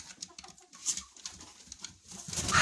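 A broody hen sitting on a nest in a henhouse makes soft, low clucks and coos close by, with light rustling that grows toward the end.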